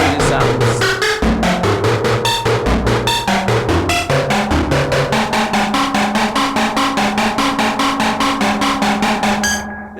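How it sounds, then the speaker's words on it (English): Doepfer thru-zero quadrature VCO oscillators frequency modulated by an LFO at audio rate, producing loud, harsh, chaotic synth tones that jump between pitches in choppy, rhythmic bursts with dense metallic overtones, no talking. "I'm now frequency modulating the oscillators, the extra oscillators from the matriarch with an LFO at audio rate."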